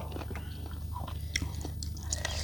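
Close, quiet biting and chewing on crispy pork, with soft repeated crunches and wet mouth sounds over faint background hum.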